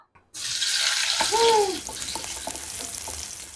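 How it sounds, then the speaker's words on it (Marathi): After a brief silence, a sudden loud hiss of sizzling oil bursts out as kasuri methi, coriander and a green chilli hit hot tempering oil, continuing steadily with a few soft clinks of a utensil. "चला आता घालूया फोडणीला"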